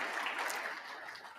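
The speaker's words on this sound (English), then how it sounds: "Please give them all a round of applause" Audience applause at an indoor stakeholder roadshow event in Johannesburg, a dense wash of many hands clapping, steady and fairly loud for a brief moment.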